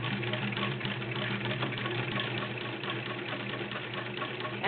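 A vintage Singer 306K sewing machine with a size 14 needle stitches through six layers of denim at moderate speed, a steady close mechanical whir with rapid rhythmic clatter running throughout.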